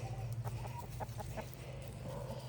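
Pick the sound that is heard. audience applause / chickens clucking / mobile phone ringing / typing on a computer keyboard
chickens clucking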